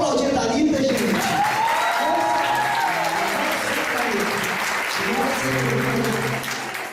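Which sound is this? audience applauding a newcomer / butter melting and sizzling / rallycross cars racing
audience applauding a newcomer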